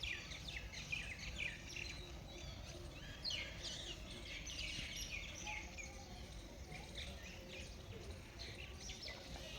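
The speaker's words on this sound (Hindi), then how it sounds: "सामने से देखो आपको चिड़ियों की आवाज़ आएगी।" Birds chirping in the morning in a village: many small chirps and tweets scattered through a faint, continuous outdoor hum, with a low murmur of distant activity underneath and no clear single close singer.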